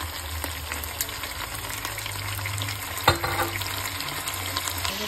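Chicken sautés in a pan with garlic and onion, a dense steady frying sizzle with scattered crackles and one louder clack of a utensil, close and moderately loud.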